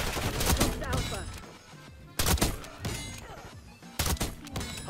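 Sharp, loud bursts of gunfire from an LW3A1 Frostline sniper rifle with a suppressor in Black Ops 6, on the underground Protocol map, with several shots spaced a second or two apart amid game noise.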